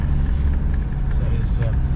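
A Land Rover crawls downhill in low ratio second gear, its engine giving a low, steady rumble close by beneath continuous talking.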